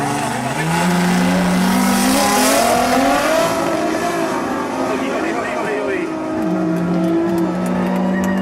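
A race car engine revs and climbs in pitch as it accelerates hard at a tuning race time trial, loud and close, with crowd or commentary noise in the background.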